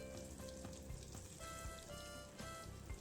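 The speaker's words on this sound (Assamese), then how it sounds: "আনফালে মুৰ্গীৰ কাবাবখিনিও ভাজি ল'বলৈ ল'লোঁ।" Chicken kebab fries in a pan for an Assamese Sunday lunch, giving a close, steady crackling sizzle with small pops throughout and no voices.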